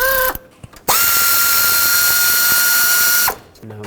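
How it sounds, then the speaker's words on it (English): A power ratchet with a 10 mm socket unbolts a bracket from the intake of a 1997-2003 Ford F-150 5.4L engine, giving a brief whir and then a loud, continuous high whine that cuts off cleanly. "But we have to unbolt this bracket from the intake with a 10 millimeter right here."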